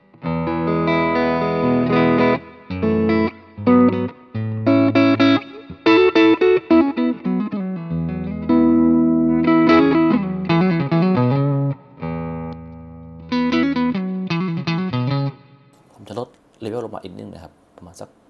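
Electric guitar through a Tank Zentro overdrive pedal, playing loud, gritty chord phrases and riffs with short gaps, with a quick strum at the end.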